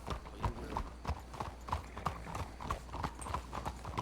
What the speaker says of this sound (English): Man, that's a cool horse.